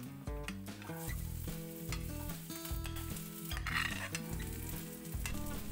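Chopped beans frying in a pan with dried red chilli and urad dal, a steady close sizzle with repeated scraping, clattering stirs throughout, no talking.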